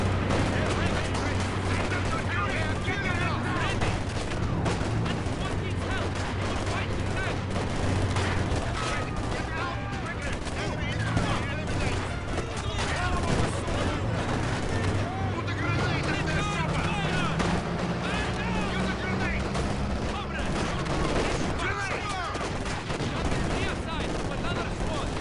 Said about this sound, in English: Our headquarters is taking enemy fire.